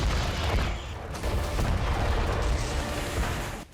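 Explosion blast at Sevastopol port in Crimea during a missile strike on Russian naval vessels, a dense, sustained roar of booming and crackling that stays loud throughout with no talking.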